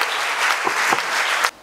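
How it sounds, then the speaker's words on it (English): Brief burst of audience applause welcoming a chairman at a program, dense steady clapping that cuts off abruptly. "Let's welcome him with a round of applause"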